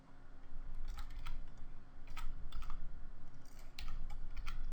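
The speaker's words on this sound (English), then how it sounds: "Type the reference of the cabinet on the keyboard without worrying about the place where the characters will be put." Fingers type a cabinet reference code on a computer keyboard in KitchenDraw kitchen design software, a quick irregular run of close key clicks with short pauses between bursts, no speech.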